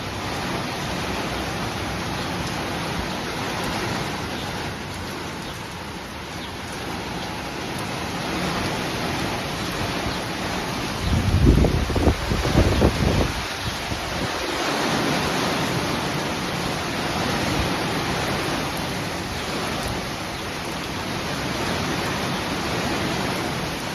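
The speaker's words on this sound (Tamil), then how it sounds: "இன்னண்டு மழை அடிச்சு ஊத்துதாண்டு" Heavy rain pours steadily over a garden in Montreal, Canada, a dense constant hiss that holds for the whole stretch, with a brief louder rustle partway through and no talk.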